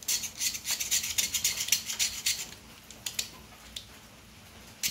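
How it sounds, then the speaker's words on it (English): The old surface on a 1950 Farmall Cub tractor is scraped and scratched in quick, rhythmic rasping strokes close by, then slows to a few isolated scrapes before trailing off. "We're going to take and see if we can't scratch a little bit of this old surface off here"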